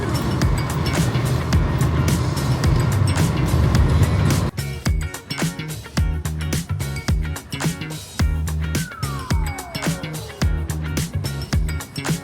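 A car drives along a road, its engine and tyre rumble a steady loud drone at first, then breaking into a choppier, fluctuating noise with rhythmic bumps and ticks, heard from inside with no speech.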